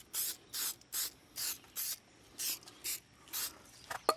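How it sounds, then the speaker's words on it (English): Detailing spray misted directly onto car paint in a series of about nine short, even hissing bursts, close and clear with no talking. "Now this one, there's a lot here, so I'm going to spray directly on the paint"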